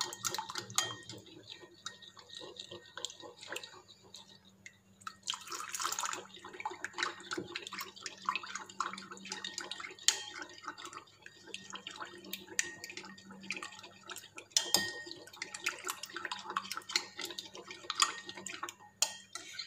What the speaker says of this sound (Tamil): இந்த ஜெலட்டின் பவுடர் எல்லாமே தண்ணியில் நல்லா கரையிற வரைக்கும் மிக்ஸ் பண்ணிகிட்டே இருங்க